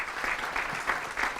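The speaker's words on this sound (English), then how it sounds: "Give a round of applause." An audience at a live business event gives a short round of applause, a brief steady patter of many hands clapping at a moderate level.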